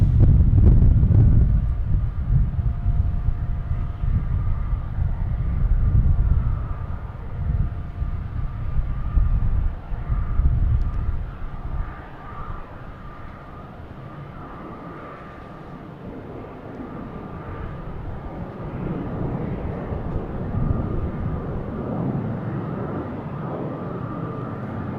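A Southwest airliner departs Boston Logan Airport, its loud broadband jet roar with wind buffeting on the microphone surging early and then easing to a steadier, slightly softer rumble.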